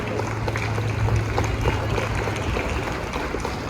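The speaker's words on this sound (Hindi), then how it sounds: "बच्चों जोरदार तालियां हो जाए आपके पेरेंट्स के लिए भी" Schoolchildren at an Independence Day celebration at Doon Blossom Academy in Ahmedabad give their parents a loud, dense round of applause, a steady wash of many hands clapping close by with little talk.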